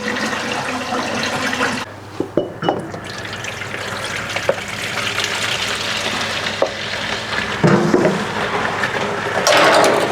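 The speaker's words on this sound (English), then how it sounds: "Nice piping hot water." Hot water splashing from a tap into a sink to wash dishes in a motorhome, a loud, steady gushing and sloshing with brief clinks of dishes and a couple of short bursts of turbulence.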